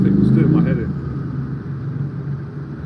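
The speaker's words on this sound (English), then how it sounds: "sorry, the noise, the traffic was doing my head in." Passing road traffic makes a steady, low rumble that continues throughout, with a voice speaking briefly over it at the start.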